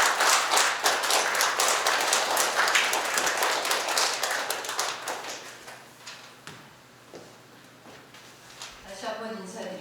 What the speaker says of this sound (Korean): 우리 큰 박수로 앞으로 모시겠습니다